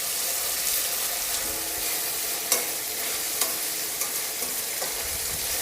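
Tomatoes sizzle and hiss steadily in a hot pan, with a few soft scraping stirs now and then.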